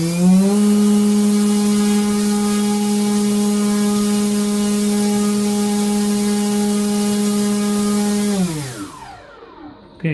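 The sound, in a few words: EMAX CF2822 brushless outrunner motor spinning 7x3.5 prop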